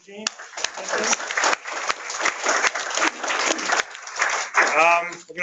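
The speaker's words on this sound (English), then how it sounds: "let's round of applause for Andy and Gene." Audience applause at a transportation section meeting, a continuous wash of many hands clapping at moderate loudness, with a voice speaking briefly near the end.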